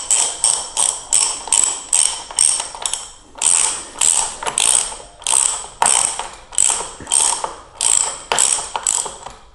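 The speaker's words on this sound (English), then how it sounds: "Then we will just tighten it again with our wrench." A wrench ratcheting a lock nut tight on the wheel of a Pride Mobility Jazzy Select mobility scooter, heard as close, loud bursts of rapid clicking in even repeated strokes with a short pause partway through.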